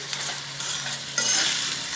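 Vegetables stirred in a hot pan while they fry for stuffed eggplant, a steady scraping and sizzling that turns louder and brighter about halfway through, with no talking.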